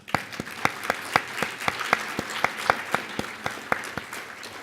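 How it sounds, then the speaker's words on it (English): Delegates at the League of Oregon Cities annual conference awards clap steadily in a hall. One distinct, rhythmic clap stands out near the front over a softer wash of applause from the wider crowd. "So I'd like to applaud you."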